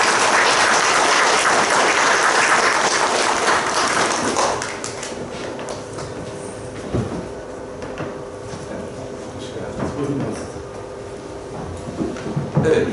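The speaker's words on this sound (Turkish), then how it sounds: "alkışlarınızla Mazlum Gökçe'yi yanıma davet ediyoruz" Audience applause welcoming a guest onto a Mersin press veterans' program, loud dense clapping for about four and a half seconds, then tapering into scattered claps and light room noise.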